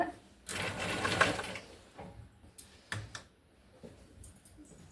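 Sewing machine stitching a blouse neck piece, a close burst of rapid mechanical needle clatter followed by short stop-start runs and clicks, fairly quiet overall.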